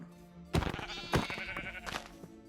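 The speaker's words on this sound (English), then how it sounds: "I spot a pack of sheep and wipe them out." Sheep in the Minecraft Create Astral modpack bleat in three loud, close, wavering cries, each followed by shorter scattered game sounds and clicks.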